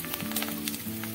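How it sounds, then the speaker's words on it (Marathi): Edible gum pieces (dink) fry in hot ghee over a low flame, a steady close sizzle with fine crackling pops throughout the short stretch. "आता इथे डिंक घेतलेला आहे, तोही तुपावर छान तळून घ्यायचा आहे।"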